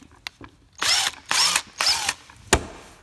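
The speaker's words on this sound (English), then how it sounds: "I'm gonna try to take this drill over here and take this out real quick" Power drill backing a screw out of a skateboard: three short whirring bursts in quick succession, close and loud, followed by a sharp click, with no talking.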